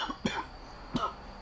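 Two short, throaty coughs about a second apart, close and moderately loud, with no talking.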